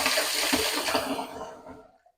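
Liquid from cooked ground beef pours off into a sink in a steady, splashing stream that tapers off near the end, with no talk.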